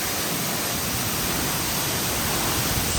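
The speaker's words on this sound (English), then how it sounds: "Definitely a lot of water coming down here." Little Mashel Falls near Eatonville, Washington pours heavy water in a dense, steady roar of rushing spray, close and continuous with no break.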